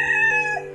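A cartoon rooster gives a brief, sustained crow, a bright harmonic tone under a second long and heard alone.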